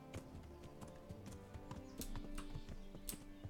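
Horse hooves clip-clop quickly at a trot in the medieval game Kingdom Come: Deliverance, faint and steady over a low bed of in-game background sound.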